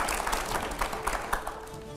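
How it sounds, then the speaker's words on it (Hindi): Applause from a studio audience at a televised panel discussion with Ramdev, moderate clapping spread across the room with some background murmur throughout. "जोरदार तालियां इसके लिए।"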